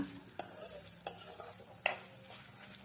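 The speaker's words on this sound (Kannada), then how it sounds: "ಇದನ್ನು ಕೂಡ ಎಣ್ಣೆಯಲ್ಲಿ ಫ್ರೈ ಮಾಡ್ಕೊಳ್ಳೋಣ" Coriander seeds fry quietly in oil, a soft constant sizzle broken by three sharp spoon-on-pan taps.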